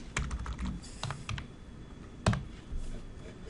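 Someone types a decimal value into a text box on a computer keyboard, with quick, soft key clicks in short bursts and one sharper tap partway through.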